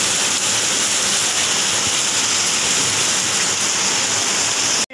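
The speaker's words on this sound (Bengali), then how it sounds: "আগে কালো মেঘ হয়ে এখন বৃষ্টি চলে এসেছে" Heavy rain pours down in a dense, steady hiss that stays loud and close the whole time, with no talk over it.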